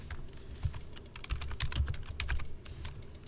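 Rapid clicking of keys on a computer keyboard, close and fairly quiet, with uneven bursts of keystrokes and short pauses between them, no talk over it.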